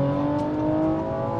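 Audi RS5 Stage 2 with stock exhaust, mid-pipe and downpipe, accelerating: a steady, droning engine and exhaust hum with a rising tone, heard from inside the car without talking.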